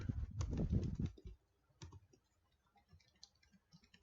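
Computer keyboard typing, a dense burst of quick key clicks followed by a few scattered, softer taps, close and clear with no talking.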